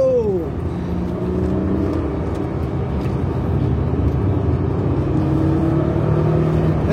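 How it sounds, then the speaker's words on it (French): Alpine A610 turbo engine pulling hard on the road, loud continuous drone with rising tones as it accelerates, heard from inside the car. "Ouh, le turbo."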